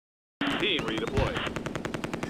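Close Combat: A Bridge Too Far wartime battle, Groesbeek landing zone: a rapid, loud burst of machine gun fire rattles steadily after a brief silence, continuing to the end.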